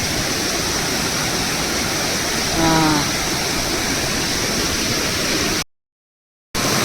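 A heavily swollen stream rushes during heavy monsoon rain on a crabbing trip, a loud, steady roar of water close by, briefly interrupted by a short voice and then a gap of silence.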